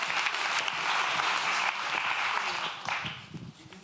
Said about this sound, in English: give a round of applause to the professor for ending our day